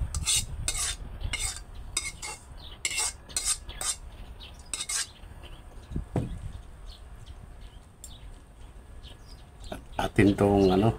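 A spoon scrapes and clinks against a pan and plate as a cooked alamang (shrimp paste) dish is served, with a string of sharp, close utensil taps and a voice talking now and then.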